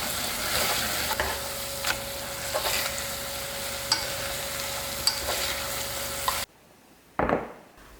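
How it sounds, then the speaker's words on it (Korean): Jjajang ramen noodles stir-fried in a pan with sauce and starchy noodle water give a steady, loud sizzle broken by scraping stirs, then drop to near silence before one last stirring scrape. "면수로 농도를 조절하면서 면이 익을 때까지 볶아주기만 하면 완성입니다"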